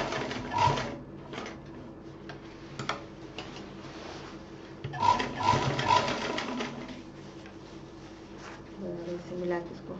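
A sewing machine double-stitches along the edge of a handbag in short ticking bursts, close and moderately loud, while a voice talks in between and over the stitching.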